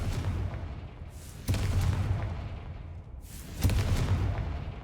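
Confringo fire spells blast in Hogwarts Legacy, with two sharp booming explosions about two seconds apart, each a loud sudden burst followed by a rumbling decay, with quieter ambient rumble between them.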